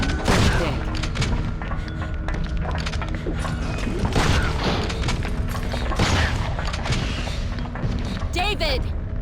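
A shotgun fired at Hunter enemies in Resident Evil Outbreak File 2, heavy blasts repeating every couple of seconds among game noise and creature cries, with voices calling out.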